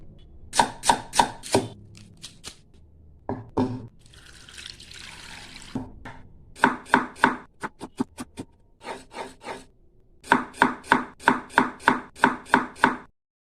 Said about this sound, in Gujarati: સૌપ્રથમ આપણે ડુંગળીને ઝીણી સુધારી લઈશું પછી ટામેટાં પણ સરસ એવા ઝીણા સુધારી લઈશું